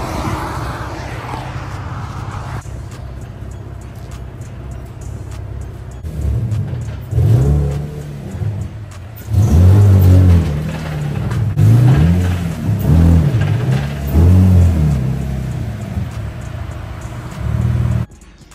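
A Nissan 350Z drives on a chipped, damaged tire, its engine revving and surging in repeated loud bursts with rising and falling pitch over a steady road rumble, close and continuous.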